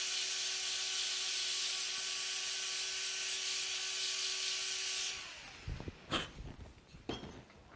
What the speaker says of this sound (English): I'm just sanding that off quick.